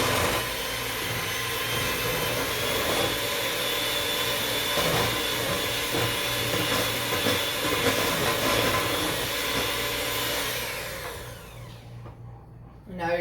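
Electric hand mixer whirring steadily through cookie dough for allergen-free chocolate chip and peanut butter cookies, a continuous motor drone that stays loud and then winds down near the end.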